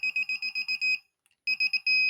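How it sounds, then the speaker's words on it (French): Metal detector in beep mode giving a rapid run of short, evenly spaced electronic beeps, a brief pause, then another burst ending in a longer tone, close and clear. "Mode juste où ça fait bip."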